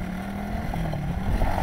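A repaired quad bike's engine runs with a steady, close, rough idle that swells slightly toward the end, heard alone without talk.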